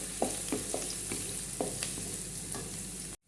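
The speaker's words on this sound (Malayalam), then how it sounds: "നല്ലപോലെ നമുക്കിതൊന്ന് വഴറ്റിയെടുക്കാം." Onions, ginger and green chilli sautéing in a pan, a steady close sizzle broken by repeated soft scraping strokes of a spoon stirring every half second or so, with no talk, ending abruptly.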